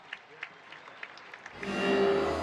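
Scattered single claps at a civic-military parade for Mexico's 16 September celebration swell into a broad, sustained roar of crowd applause and cheering, with a steady tone running through it.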